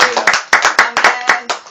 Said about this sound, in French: Applaudissons le Seigneur pour la parole qu'il nous a annoncée.